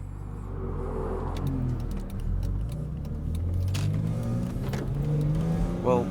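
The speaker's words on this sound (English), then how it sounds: "So let's start up this beautiful car and get on our way." A BMW Z4 M Roadster engine fires and settles into a steady, close, loud rumble, with revs rising toward the end as the car pulls away, and faint jangling near the start.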